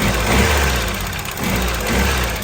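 A Fiat Uno engine runs steadily at idle after carburetor repair, a low continuous rumble with slight pulsing, close by and without talk.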